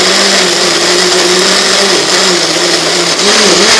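A loud blender whirs steadily, grinding tomatoes, coriander stems, turmeric and ginger into a raw gravy for dum aloo, with a constant motor drone and no talking.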